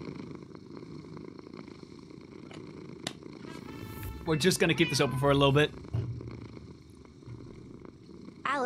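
A cat purrs as a low, steady rumbling hum beneath a person talking close by.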